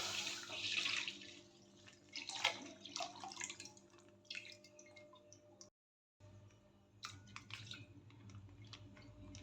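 Water is poured into a cooking pan while kheer is being made, a faint running trickle with scattered drips that cuts out briefly near the end before quiet kitchen noise resumes.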